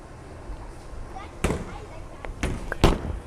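A 900 Global Harsh Reality Pearl bowling ball is released onto the lane with a sharp thud, rolls briefly, then strikes pins in a loud burst of clatter, with alley background noise throughout.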